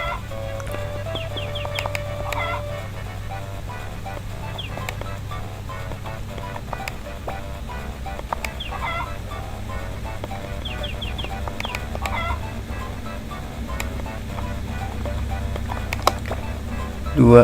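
Chickens on a farm in the game Harvest Moon: Friends of Mineral Town cluck repeatedly in short bursts over a steady, looping game tune, close and fairly loud throughout.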